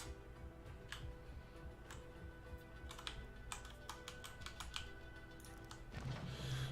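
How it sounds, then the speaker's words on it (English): Someone types on a very clicky computer keyboard during a quiet early-morning Star Citizen mining session, producing a faint, irregular stream of sharp key clicks over a steady low room hum. "I have the clickiest keyboard ever"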